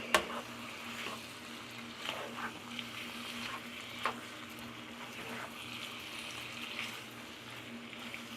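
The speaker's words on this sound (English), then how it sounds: "I'm carefully going to stir it up." Shrimp and spinach pasta being stirred in a pan, with a steady sizzle and soft scraping and clinking of the utensil at intervals, close and fairly quiet, no talk.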